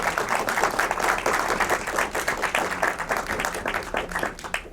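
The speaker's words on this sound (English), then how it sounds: "One more round of applause for Tasty." An audience applauds at a Q&A session at a film festival, steady dense clapping from a crowd that holds at an even level throughout.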